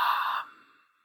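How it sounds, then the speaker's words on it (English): A single soft ujjayi breath, a breathy ha exhale that closes partway and finishes out through the nose, heard close and alone and fading gradually into quiet. "halfway through the ha sound, close your mouth and breathe out through your nose"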